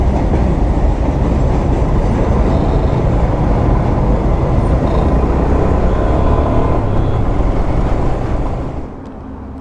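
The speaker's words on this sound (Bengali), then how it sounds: "মালগাড়ি মালগাড়ি।" A freight train rumbles past close by on a rail line, a loud continuous roar with clattering wheels that holds steady before easing off near the end, with no voices.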